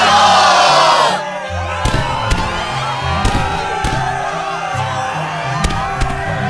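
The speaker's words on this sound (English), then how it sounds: "Yes, the crowd is fired up, so you know what comes next." A crowd roars and cheers in the video game Kingdom Hearts II, a loud swelling burst at the start that drops into busier background noise with sharp percussive hits.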